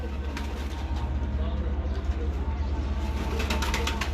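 Rooftop flying pigeons in Rawalpindi, soft cooing from a nearby bird amid steady outdoor background noise, with someone talking.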